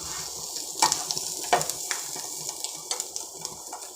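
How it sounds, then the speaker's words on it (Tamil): Boiled eggs fry in a pan with onion, chili, masala and a little chopped curry leaf, giving a steady close sizzle broken by occasional scraping stirs of a spoon against the pan. "இந்த முட்டை இதில் ஃப்ரை ஆகி வரும்போது நல்லாயிருக்கும்."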